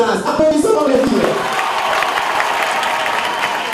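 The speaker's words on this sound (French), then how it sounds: "Applaudissons les filles." A school audience applauds the girls at a prize ceremony with steady, dense clapping that starts strongest and stays full throughout, while a voice talks over the start.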